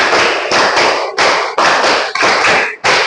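A group of people clap their hands in loud, sharp bursts in a counted rhythm, with several claps in quick succession followed by brief pauses, close by and without speech.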